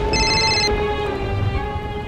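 A telephone rings indoors during heavy rain, a short burst of bright trilling tones lasting under a second, loud and close over a constant wash of rain noise.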